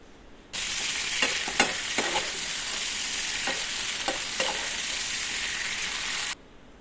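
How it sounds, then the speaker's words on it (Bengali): Marinated chicken fries over a high flame, a loud, even sizzle close by with several sharp stirring scrapes and clicks scattered through, starting and stopping abruptly, no voices. "গ্যাসের ফ্লেমটা এখানে হাই রেখে চিকেনটাকে 4 থেকে 5 মিনিট খুব ভালো করে ভেজে নেব"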